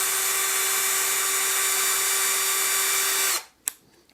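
A Bosch Flexi Click drill whines steadily at lower speed for over three seconds, loud and close, then stops, followed by a sharp click and faint handling noises.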